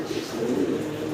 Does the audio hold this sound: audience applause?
no